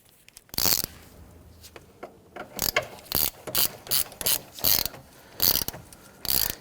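A hand ratchet snugs down a camshaft position sensor bolt on a 2011-2015 Kia Sorento 2.4L four-cylinder, with a series of close, crisp clicking bursts in an uneven back-and-forth rhythm.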